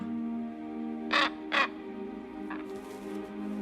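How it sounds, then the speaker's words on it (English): A wild crow gives two loud, harsh caws in quick succession, then a fainter third call, over a low steady tonal background. "this crow is clearly inviting Slava to become his partner"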